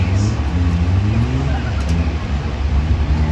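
School buses racing in a figure-8 event at a track, engines droning loudly and steadily with low rumbling harmonics, a crowd-like wash of noise over the near-continuous engine roar.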